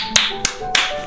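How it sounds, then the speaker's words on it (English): Three loud, sharp hand claps spaced evenly and close up, each a crisp isolated crack over a quiet background. "My loud clapping."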